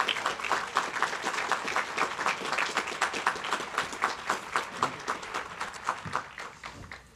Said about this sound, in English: how about a round of applause for the Lukens Band?